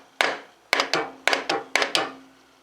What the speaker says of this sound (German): Wenn er dann mal zentrisch sitzt, könnt ihr auch einen kräftigen Hammer nehmen.